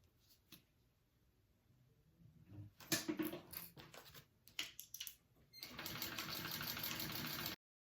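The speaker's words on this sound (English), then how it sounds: "I'm going to sew that at a 3/8 inch seam allowance" A sewing machine runs a 3/8 inch seam on a handbag, starting in short, stuttering bursts, then settling into a sustained, even whir before cutting off abruptly.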